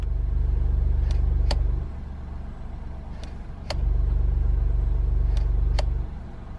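Alfa Romeo Giulia Quadrifoglio exhaust with dynamic valves open, heard from the cabin through a lowered window: a steady low engine rumble that swells and drops twice, with a few sharp clicks or ticks standing out.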